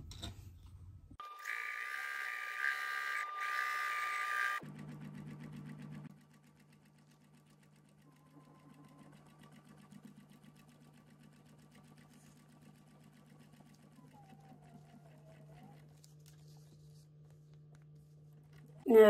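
Sewing machine stitching quilt pieces for a modern medallion quilt, a loud steady whirring run of a few seconds, then dropping to a quieter, lower mechanical hum that continues at close range.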